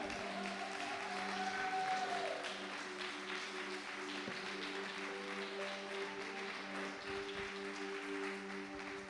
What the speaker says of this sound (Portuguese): Você pode aplaudir esse Deus bem forte?